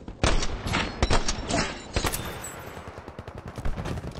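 Rapid bursts of video game gunfire crack out close and loud in a shooter, several volleys in the first two seconds, then lighter scattered shots and faint background battle noise.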